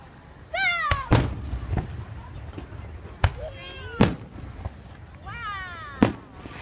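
Fireworks bursting over a park at night, several sharp loud bangs spaced a second or two apart, with whistling crackles trailing after some, while people chatter and someone talks nearby.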